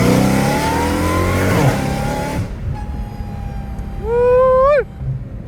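Dodge Hellcat Redeye with straight-piped exhaust revving hard from inside the car, a loud rising roar that drops away, then a sharp climbing burst of acceleration near the end before cutting off.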